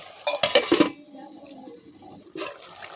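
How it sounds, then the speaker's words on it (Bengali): Beef and turnip curry being stirred in a pan, a burst of loud metallic scraping and clatter at the start, then a quiet simmering hiss and another short scrape. "এগুলোকে ভালো করে নেড়ে দেব"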